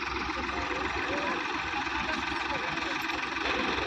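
A Farmtrac tractor bogged in mud labors to pull out, the engine droning loud and steady with a rough, throbbing beat while people talk over it.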